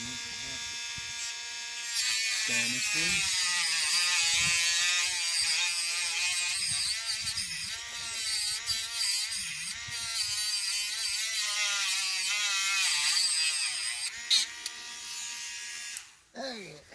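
A Dremel rotary tool whines at high speed, grinding steadily for most of the clip with a harsh, buzzing tone and brief dips as it bites into material.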